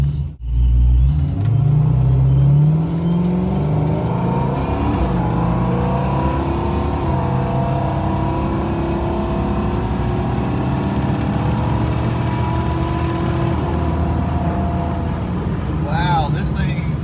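An automatic Ford Foxbody fitted with a bigger N51hr cam pulls away under light throttle, its V8 rumble rising smoothly through the gears with audible upshifts, loud and close from inside the car while someone talks over it.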